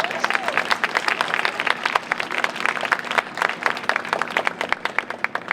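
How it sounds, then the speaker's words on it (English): An inauguration ceremony crowd breaks into clear, sustained applause with many distinct hand claps, steady and fairly close, carrying on for several seconds without speech over it. "Clap for that."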